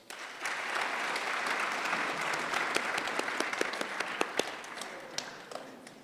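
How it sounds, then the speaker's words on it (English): An audience at an automotive open day in the Eersterust Civic Centre gives a round of applause, a full burst of clapping that thins toward scattered, sharper individual claps as it winds down. "please give yourself a round of applause"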